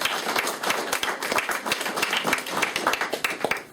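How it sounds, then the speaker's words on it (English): An audience at a Canadian Cancer Society speaking event breaks into applause, individual claps distinct and uneven within a lively, moderately close round of clapping that carries on for a few seconds. "I think you should give yourselves a round of applause for being here today."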